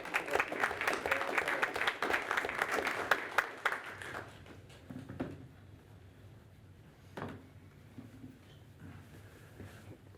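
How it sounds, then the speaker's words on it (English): A city council meeting audience applauds honored women, a dense burst of clapping for about four seconds that then thins out into scattered claps and quiet room noise. "Round of applause for these wonderful women."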